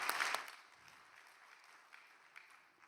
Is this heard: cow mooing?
no